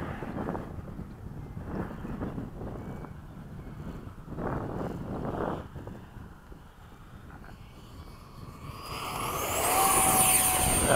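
An FMS 70mm F/A-18 model jet, an electric ducted-fan RC plane, runs through touch-and-go passes at sunset at a flying field, its fan whine and wind rush steady throughout and swelling louder near the end as it passes close.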